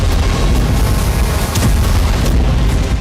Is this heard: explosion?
yes